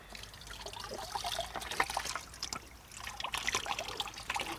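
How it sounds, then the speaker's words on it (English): A wash bottle from a RiverWatch kit squirts water to rinse the outside of a stream-sampling net for macroinvertebrates, making a close, fairly quiet trickle and splashing that pulses unevenly throughout. "Now we're going to use our wash bottle that's included in the RiverWatch kit to rinse off the outside of our net."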